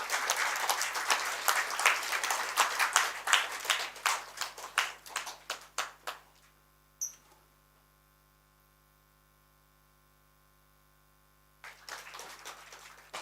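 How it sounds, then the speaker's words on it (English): Conference audience at an international law and technology gathering in Kumarakom, Kerala, claps in a burst that fades out after about six seconds, leaving near-silence over a steady mains hum before faint clapping resumes. "Please give him a big applause."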